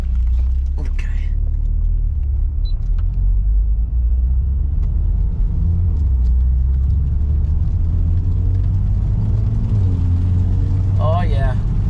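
A Mitsubishi Lancer Evo X MR drives down a residential block, its low engine rumble steady and close throughout, with brief voices and small clicks and chirps surfacing over the drone.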